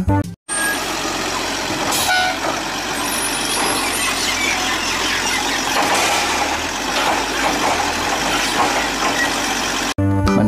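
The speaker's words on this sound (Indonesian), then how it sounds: "Yang ini namanya truk sampah teman-teman" A garbage truck rumbles steadily up close, its engine droning with brief tonal whines and beeps riding over the continuous mechanical noise, loud and sustained throughout.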